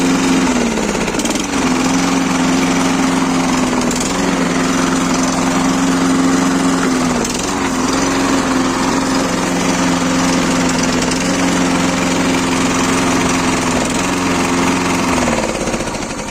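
A self-propelled petrol lawn mower runs steadily up close, its engine a loud continuous drone with slight dips in pitch, heard without any talking.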